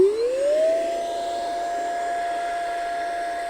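Outdoor Master Shark 3 electric pump inflating a paddle board, starting with a rising whine that spins up within a second, then holding a steady, loud high-pitched motor hum and fan rush.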